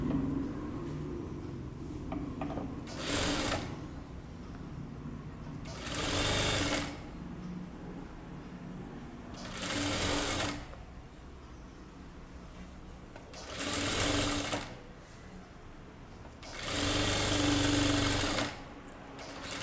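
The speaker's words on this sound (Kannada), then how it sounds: "ಎಡ್ಜಲ್ಲಿ ಸ್ಟಿಚ್ ಮಾಡ್ಕೊಳ್ಳಿ." A sewing machine stitches along the edge of a kurta in five short bursts of rapid needle chatter, separated by quieter pauses with faint handling noise, close and clear with no talking.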